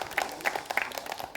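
An audience applauds for a young girl at a children's preaching competition on a television stage, producing scattered, moderately quiet claps that come in uneven bursts.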